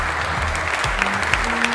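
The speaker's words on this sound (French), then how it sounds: "Je pense que ce serait cool qu'on s'applaudisse" A crowd at a national convention applauds together, a dense, steady wash of clapping over a low musical hum, loud and continuous throughout the short moment.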